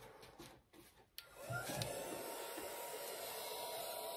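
A hair dryer blows air onto a paper art collage, starting after a few handling knocks and then settling into a steady, close whirring roar that continues to the end.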